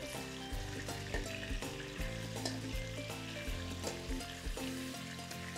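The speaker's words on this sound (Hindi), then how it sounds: "आ वेखो हुण चर्बी थोड़ी जी गलन लग गई है" Animal fat melts and sizzles in a kadhai for Peshawari kadhai meat, a steady close frying hiss under a layer of background music, with no talking.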